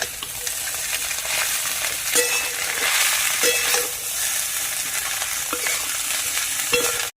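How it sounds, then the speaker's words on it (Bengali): Chow mein made with wheat flour and maida, tossed with scrambled egg and stirred in a frying pan. A loud, close sizzle runs throughout, with periodic spatula scrapes against the pan. "তো দেখুন আবারও দিয়ে দিয়েছি, আবারও নাড়বো।"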